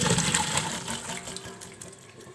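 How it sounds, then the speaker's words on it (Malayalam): Tap water runs and splashes steadily over cauliflower being washed in a bowl of water, close and fairly loud, with bursts of sloshing as the pieces are rinsed. "നല്ലതുപോലെ വെള്ളത്തിലിട്ട് കഴുകിയെടുക്കണം."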